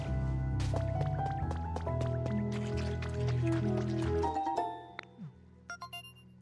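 Muddy water sloshing in the Pokopia video game, a burst of squishy, bubbly liquid splashes and plops layered over game music, ending in a few scattered drips.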